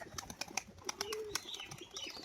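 Performing pigeons coo softly nearby, a faint low murmur broken by scattered clicks and light rustling.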